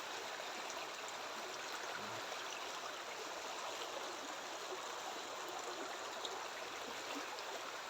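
A shallow creek flows steadily with a continuous broadband rush and burble, fairly close and unbroken, with no voices.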